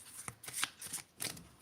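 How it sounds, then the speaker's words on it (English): A tarot card is pulled from the deck, giving a few quick, close papery flicks and slides in a brief cluster. "Let's pull out another card"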